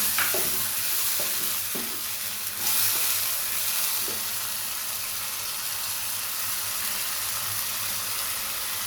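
Tomato paste goes into a hot pan for a Bengali fish curry, giving a steady, close sizzle of frying with a few brief stirring clinks near the start and no talk.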